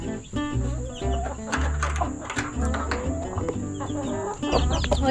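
Chickens on a homestead cluck and squawk repeatedly in a busy, close flock, loud rhythmic calls overlapping with a faint steady tone in the background.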